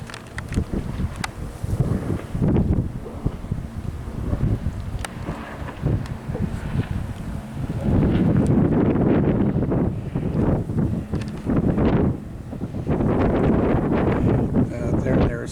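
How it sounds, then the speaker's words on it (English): Strong gusty wind buffets the microphone at Lake Oroville with rough water, rising and falling in heavy, rumbling surges across the scene, with a voice talking intermittently underneath. "The water's a little rough. It's windy. It's real windy."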